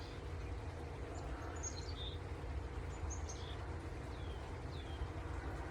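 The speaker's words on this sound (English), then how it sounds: "birds, two different kinds of birds." Birds chirp and whistle in a quiet outdoor setting, two distinct calls trading short phrases over a soft, steady background hiss.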